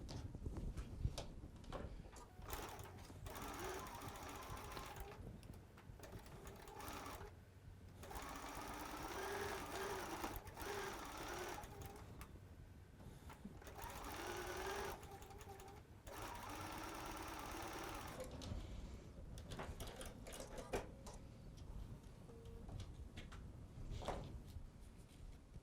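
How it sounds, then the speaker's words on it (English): A domestic sewing machine stitches two quilt block pieces together, running in a steady, continuous mechanical whir with brief pauses and restarts, close and clear throughout. "Let's head over to our machine and let's sew those 2 pieces right now."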